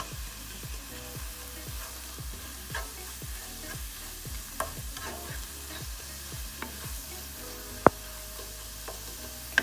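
Chopped onions and melting cheese sizzle in a pot while a utensil stirs them in regular rhythmic scrapes, a soft steady fry underneath and an occasional sharper knock against the pot.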